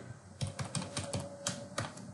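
Typing a username and password on a computer keyboard, a rapid run of close, crisp key clicks in an irregular rhythm with no talking.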